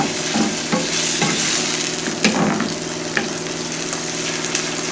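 Onions and tomatoes fry in a pan for a yam and egg sauce, a close, continuous sizzle broken by repeated scraping stirs and a few clinks of the utensil against the pan.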